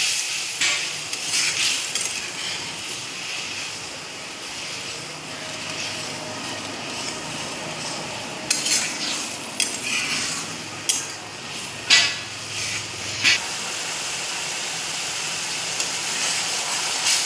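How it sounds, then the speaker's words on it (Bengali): A spice paste fries in oil in a wok, hissing and sizzling steadily up close, with intermittent clinks of a utensil stirring against the pan and no talk. "এবার সেই গুলানো মশলাটাকে ভালোভাবে কষিয়ে নিচ্ছি।"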